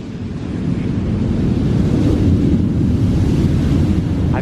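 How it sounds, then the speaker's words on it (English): Ocean waves washing onto a beach at sunset, a loud, continuous broadband roar of surf with steady wind noise across the microphone and no talking. "the waves are being a little bit loud"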